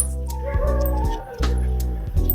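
Dogs barking and whimpering while waiting for prasad at a shrine, several short loud yips and whines in quick succession, close by.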